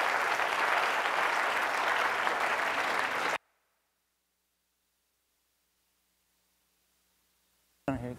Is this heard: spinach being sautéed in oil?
no